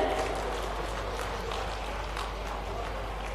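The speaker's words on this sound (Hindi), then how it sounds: "जोरदार तालियों के साथ स्वागत अभिनंदन" Enthusiastic applause welcoming chief guest Nitin Gadkari and the Chief Minister at the inauguration of the Sidhi tunnel: a steady wash of many hands clapping, heard at a moderate distance and unbroken for a few seconds.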